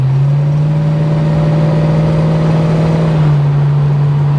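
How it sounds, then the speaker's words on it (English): A Holden HK V8 with a crossover-pipe exhaust accelerates, a loud, close, sustained engine drone that climbs steadily in pitch before settling, heard alone without talk. "I think this exhaust system sounds like a wet fart."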